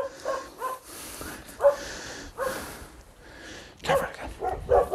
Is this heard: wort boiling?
no